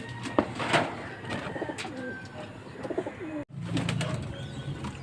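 Pigeons coo in soft, repeated throaty calls nearby, overlapping with a few brief chirps and light rustling against a steady outdoor background.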